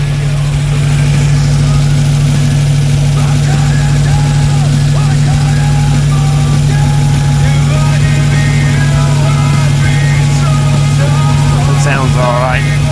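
A 1941 Buick engine idles steadily, a loud, constant low hum with a strong steady drone that stays even throughout, while faint voices and small background sounds drift over it.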